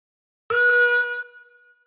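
One reedy harmonica draw note on hole three begins after a brief silence, holds steady for about a second, then tapers off softly, with no one speaking.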